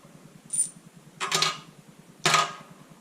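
Metal motorcycle bolts dropped into a hot parts cleaner tank at 140 degrees: three separate close metallic clinks and clatters, spread out over a low steady machine hum.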